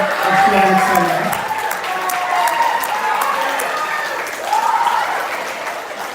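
Audience applause at an 8th grade moving-up ceremony, sustained clapping from a crowd in a hall, with a voice talking over it and a few chuckles.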